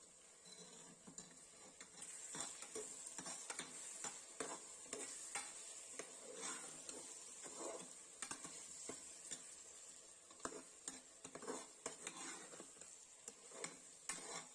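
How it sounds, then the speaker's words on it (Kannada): Spices and turmeric frying in a pan for rice bath, a quiet steady sizzle with frequent soft scraping stirs throughout. "ಸ್ವಲ್ಪ ಫ್ರೈ ಮಾಡೋಣ."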